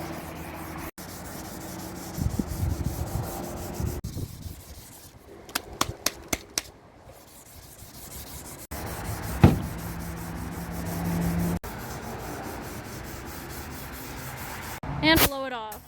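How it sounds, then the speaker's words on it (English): Close hand sanding on painted F-150 trim to knock down orange peel, in rasping strokes with short pauses, a few quick clicks and a brief squeak near the end, no talking. "take all this orange peel out of it, so it's nicely sanded"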